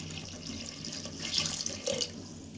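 Water runs steadily into a pressure cooker over lentils being prepared for a Yadgir-style dal, a continuous close splashing pour with a slight rise in the middle and no voices.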